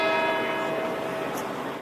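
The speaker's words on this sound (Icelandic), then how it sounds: "Þá var kirkjuklukkum í dómkirkjum Englands hringt í gær þegar sólarhringur var frá því að eldurinn gaus upp." Church bells ring in an English cathedral, their sustained metallic tones close and loud, slowly fading, with no voices.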